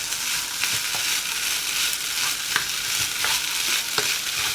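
Tomato mixture for a vegetarian hachis parmentier bubbles and sizzles in a frying pan while a spoon stirs through it, giving a steady hiss dotted with repeated soft scraping strokes.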